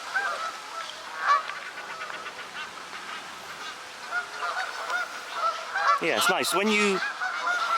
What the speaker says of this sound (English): loving all the birds out there, the geese, fowl in general